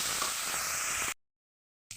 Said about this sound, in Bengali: নুন হলুদে মাখানো চিংড়ি মাছ ভেজে নেব।